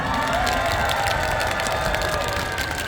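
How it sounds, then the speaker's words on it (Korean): A concert crowd at an outdoor live show claps and cheers loudly and continuously, dense applause mixed with shouts filling the space throughout. "오늘 여기에 모여주신 여러분들을 위해서 박수 한번 칠까요, 여러분?"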